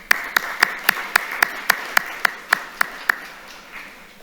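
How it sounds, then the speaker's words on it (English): A few slow, evenly spaced hand claps ring out at an appreciation event honouring caregivers of crime victims, about a dozen sharp claps with a steady beat fading into a quiet room rather than a full crowd ovation. "Please give yourselves a round of applause."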